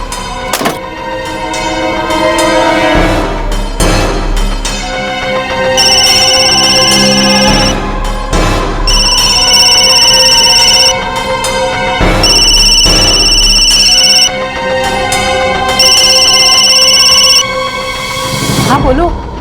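A telephone rings in repeated bursts of a bright electronic tone, loud and close, with pauses between rings, over a music bed and people talking.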